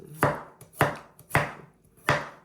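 Knife chopping garlic into slices on a cutting board: four crisp, evenly spaced thuds about half a second apart, close and clear with no talking.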